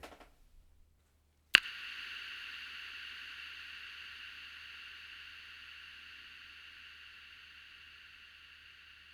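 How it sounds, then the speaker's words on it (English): A single sharp hit is followed by a long, smooth wash of reverberation from a guitar looper pedal's reverb set to its longest tail, fading very slowly over several seconds, with no voices. "just put the tail the longest that is possible, so you can see the quality of the reverb tail"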